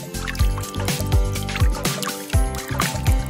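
Water sloshing and swirling in a container after colored nail polish is poured in, with repeated watery swishes and gurgles in an uneven rhythm, close and fairly loud, over a faint musical background.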